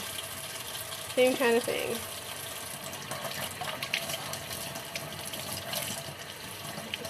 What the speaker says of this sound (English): Just rinsing it off